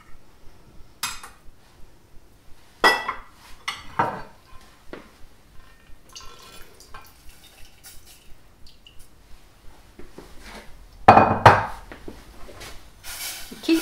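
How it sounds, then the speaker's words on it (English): Tofu sauce with ginger, garlic and butter is stirred in a pan, giving light scraping and clinking of a utensil against the pan with a few louder knocks, close and sparse, with no talking. "Keep stirring it, don't take your eyes off this sauce because you don't want it to catch."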